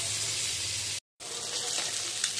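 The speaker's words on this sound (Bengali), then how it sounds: "এই যে পমফ্রেট মাছ, এটা হচ্ছে ভেজে নিচ্ছি" Pomfret fish fries in hot oil in a pan with a continuous, fairly loud crackling sizzle. The sound drops out briefly in the middle, then the hiss resumes.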